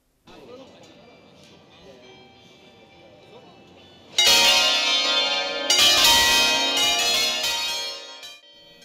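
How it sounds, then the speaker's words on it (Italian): Church bells peal loudly at a bell ringers' gathering and concert in Agnone, Italy, home of the Marinelli bell foundry. A voice talks first over faint ringing, then full, dense bells swell in and ring on alone. "È stato un tripudio di suoni di campane"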